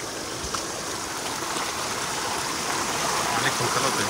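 Heavy, continuous monsoon rain over flowing creek water on a Konkan farm, a steady broadband wash with no clear breaks, even and fairly close.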